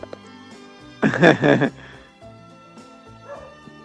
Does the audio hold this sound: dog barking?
yes